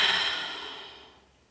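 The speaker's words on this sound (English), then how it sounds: "Take another inhale, exhale through your mouth" A single deep, breathy exhale through the mouth, loud and close at first, then trailing off softly into quiet.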